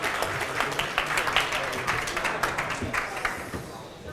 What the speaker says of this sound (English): let's give Marcus a nice, warm round of applause